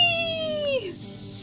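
Cartoon cat meowing in the video game Lost in Play, a single drawn-out falling meow heard close and clear alone, fading into soft ambient game music.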